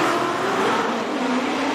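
A Corvette drift car at a Formula Drift Pro round in New Jersey, its Borla-exhausted engine screaming at sustained high revs, loud and steady throughout.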